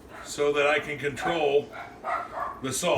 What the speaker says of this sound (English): you can hear the dogs are going off this morning